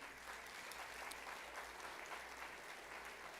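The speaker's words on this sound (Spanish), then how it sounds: "Un aplauso al Señor." Congregation in a church applauding, a continuous even patter of many hands clapping, fairly faint and steady throughout with no speech.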